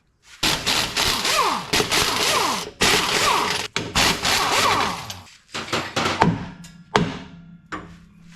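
An impact gun spins 15 mm drive shaft bolts off a 2015 Ram 2500 during 68RFE transmission removal, giving loud repeated bursts of rattling hammering, then a few shorter clanks and tool knocks.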